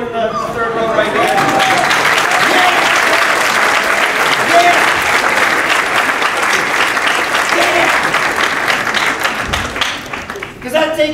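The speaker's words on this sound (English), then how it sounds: "Can we get a round of applause for this one in the third row right here?" A hall audience of several hundred people applauds loudly and steadily for about ten seconds, then the clapping fades near the end.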